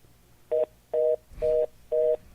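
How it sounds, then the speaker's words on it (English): Telephone busy signal on a call: four evenly spaced steady tone bursts of about a fifth of a second each, clear and alone with no voices. "Sounds like a busy signal or something."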